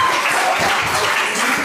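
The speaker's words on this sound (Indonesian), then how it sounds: "Boleh tepuk tangan dulu buat kita semua Bapak Ibu." An audience of men and women claps near the close of an event, with brief, loud, dense applause heard up close.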